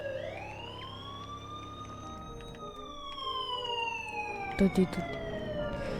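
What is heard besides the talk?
police siren in Squid Game video game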